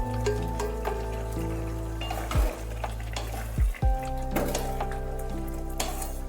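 Previously fried eggplant pieces are tipped into a radish and potato curry and stirred in a pan. The result is a close, steady scraping and sizzling with a few louder knocks of the spoon, heard over a constant tonal hum.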